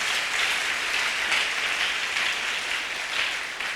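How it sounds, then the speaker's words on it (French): Steady, dense applause from a Pentecostal church congregation, continuous and fairly loud throughout with no break. "Acclame, c'est une prière exaucée."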